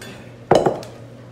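A chicken-contaminated cutting board being lifted away in a home kitchen: a single short clatter of board and utensils knocking together, close and fairly loud, with quiet around it and no speech.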